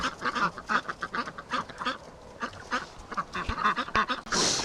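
Several ducks quack in rapid, overlapping bursts close by in a muddy pen, a busy chattering chorus with a short splash or rustle at the end.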